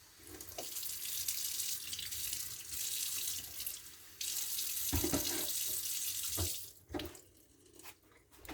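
A tap runs steadily into a sink while fingers covered in microgreen seeds are rinsed under it, a close, continuous rushing of water with brief splashy knocks and changes as the hands move, and no voices.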